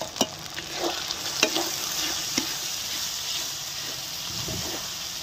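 Ginger-garlic paste and ground spices sizzle in hot oil in a pan while being stirred for a Bengali-style chicken jhol, with soft scraping strokes and crackling bursts over a low, steady fry.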